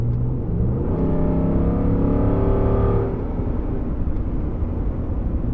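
A Gen 1 Ford Raptor pickup fitted with a Corsa Extreme exhaust accelerates from inside the cab, its deep engine rumble climbing steadily in pitch for about three seconds before settling into a loud, steady drone.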